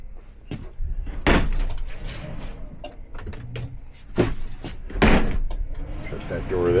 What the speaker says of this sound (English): Shut that door there.